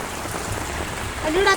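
Heavy monsoon rain pours down in a steady, dense hiss throughout, with a voice briefly rising near the end.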